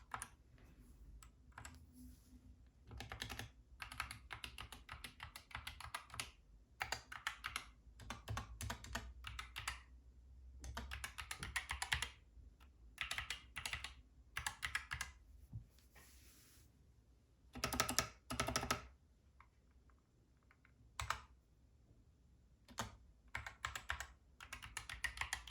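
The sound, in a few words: typing on GK61 keyboard with Gateron optical yellow switches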